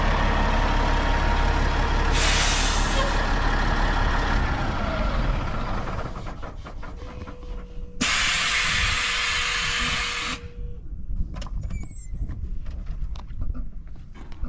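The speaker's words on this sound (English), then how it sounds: "What a truck, man." A Kenworth truck engine idles and rumbles nearby, with bursts of hissing air and clattering over the steady low drone.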